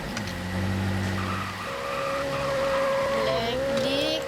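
A car engine hums and shifts pitch as it drives, holding a steady, fairly loud tone, with people talking over it.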